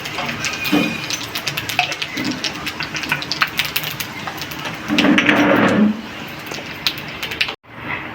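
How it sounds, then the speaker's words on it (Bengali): Panch phoron spices fry in hot oil with a steady crackling sizzle and scattered sharp pops, growing louder in a brief burst before cutting off. "ফোড়নটা ভাজা হয়ে গেছে"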